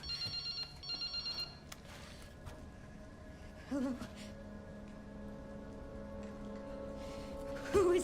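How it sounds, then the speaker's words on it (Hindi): A mobile phone rings inside the Resident Evil 9 Requiem video game, a repeating electronic ring in short bursts early on, then a quieter background with faint game sounds. "ये मोबाइल फोन बज रहा था।"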